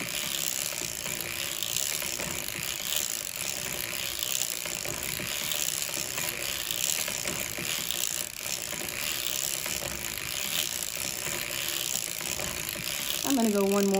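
Crank of a 1924 Gearhart sock knitting machine turning steadily, a continuous dense mechanical clatter of needles and cams rolling on without pause, close and fairly loud, with a brief whirring rise near the end.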